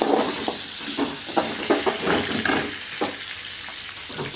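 Garlic sizzles and fries in a pan for a spicy chutney, with a constant close hiss broken by scraping stirring strokes at an irregular rhythm.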